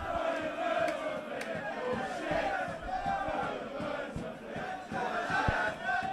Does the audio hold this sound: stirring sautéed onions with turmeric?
no